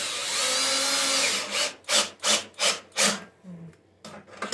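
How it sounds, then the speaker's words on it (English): A 10 mm socket drives bolts back into a Toro Super Recycler mower. A sustained mechanical whir gives way to five rhythmic ratcheting bursts, loud and close, with no voices. "grab your socket again with your dang 10 millimeter socket and just re-put in all those bolts that you took"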